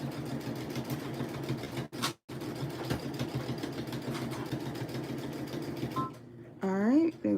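Sewing machine back stitching and then running off the end of a seam while making a fabric basket, a steady close mechanical whir under speech, with a brief stop near two seconds and the motor cutting out at the end.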